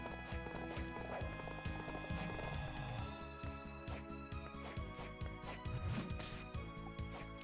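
Enemy horses gallop in Castlevania: Dawn of Sorrow with rapid, repeated hoof clip-clops, heard quietly amid the game's music and effects.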